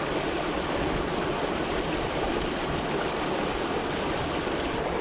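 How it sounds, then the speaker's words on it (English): Cold stream water rushing steadily, a dense, even broadband flow heard close with no breaks or voices. "Here's a little bit of water to end things on."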